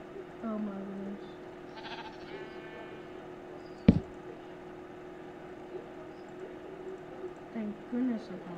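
A Minecraft sheep gives a short bleat early on, followed by a sharp single knock and faint further bleats near the end over a quiet game background.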